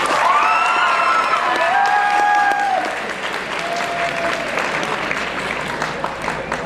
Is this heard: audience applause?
yes